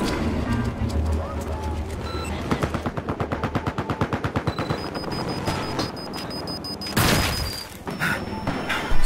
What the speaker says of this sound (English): So many explosions, goddammit.